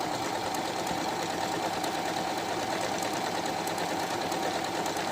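Singer Apricot 9700 electric sewing machine stitching, a steady continuous motor whir with fast needle rhythm, running alone at close range without talk.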